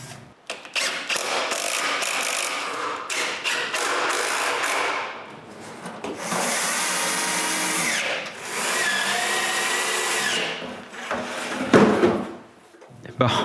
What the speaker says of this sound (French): Après avoir percé des trous de fixation